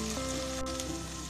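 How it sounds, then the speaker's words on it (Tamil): Minced mutton sautéing in a pan with coriander powder and chilli powder, a steady close sizzle hissing throughout the short moment with no voices. "தனியாத்தூளும் மிளகாத்தூளும் சேர்த்து 1 வதக்கு வதக்கிட்டு உடனே தயிர் சேர்த்திடுங்க"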